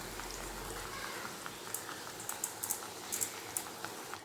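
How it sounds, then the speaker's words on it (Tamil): Tomato paste with mustard seeds bubbling in hot oil, a soft steady simmer with scattered small pops and spits, quiet and close. "இது போல் நல்லா கொதித்து வரணும்."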